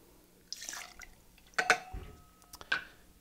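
Jamaican rum is poured into a cocktail shaker for a tiki drink, short liquid splashes and drips with a few light knocks of glassware in a quiet room.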